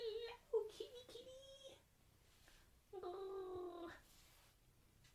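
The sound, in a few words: cat meowing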